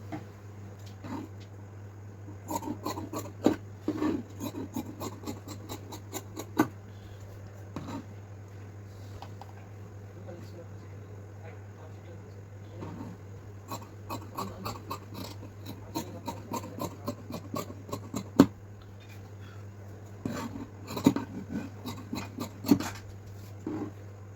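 Scissors cutting cloth for a two-year-old boy's pants, heard as scattered bursts of crisp snipping and soft scraping over a steady low hum, close and fairly quiet, with no talking.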